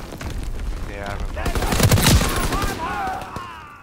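Rapid automatic gunfire bursts in Call of Duty: WWII multiplayer Hardpoint, a heavy-recoil weapon rattling loudly and building to a peak, mixed with game sounds and a voice talking over it.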